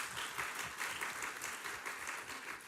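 A chamber of commerce candidate forum crowd applauds the candidates with continuous, even clapping that stays fairly soft and distant throughout.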